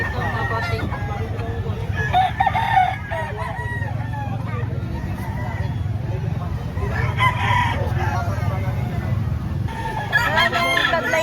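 Roosters crow repeatedly and chickens cluck at a poultry market selling gamefowl, several birds close and overlapping, with traffic and background chatter around them.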